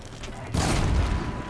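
A sudden loud explosion of a Fire Bellowback machine in Horizon Zero Dawn bursts out and rumbles on, deep and noisy, following a quieter hum of game background sound.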